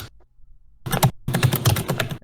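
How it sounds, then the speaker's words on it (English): Computer keyboard typed on hard and slammed during a gaming podcast, heard as two loud clustered bursts of heavy clacking and thumps close to the mic, separated by a brief quiet gap. "You slamming your keyboard down."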